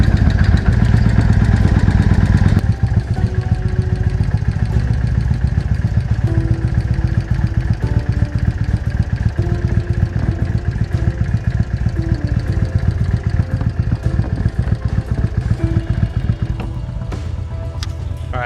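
Old motorcycle, left sitting for ten years, idling steadily nearby with a loud, even, rumbling beat and light mechanical clatter throughout, no talking over it.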